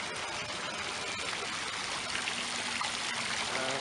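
Water runs steadily through a model of Al-Jazari's water clock with a flow regulator, making a continuous close trickling, splashing wash with no pauses.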